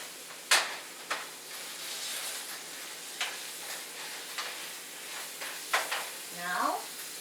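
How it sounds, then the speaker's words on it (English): A pot roast stir fry with tomatoes sizzles steadily in a pan, a continuous hiss broken by sharp scraping clacks of stirring, with a person speaking briefly near the end. "This is sizzling now."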